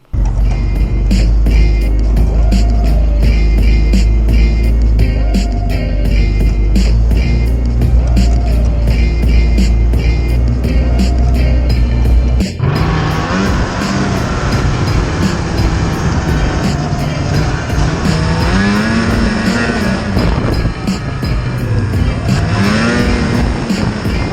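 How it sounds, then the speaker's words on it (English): Snowmobile tearing across a snowy yard, engine loud and continuous with rising and falling revs as it swoops around, shifting abruptly midway to rougher, varied engine roar, close and alone without talk. "had a little bit of fun with the snowmobile there"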